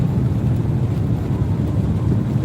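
A Saturn Sky Redline's exhaust hums low and steady from inside while driving, a continuous moderate drone with road rumble and no voices.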